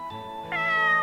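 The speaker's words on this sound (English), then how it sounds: "With its head tilted slightly to the side, it let out an adorable meow." A single soft, drawn-out cat meow from the Corpse Party video game, rising slightly partway through, clear and close with no talk over it.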